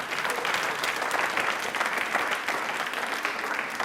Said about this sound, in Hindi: तालियां एक बार इनके लिए जोरदार हो जाएं।